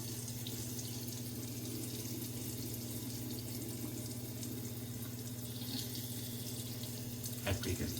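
Cold water runs steadily from a bathroom sink tap in a continuous close splashing rush, with a brief louder splash near the end.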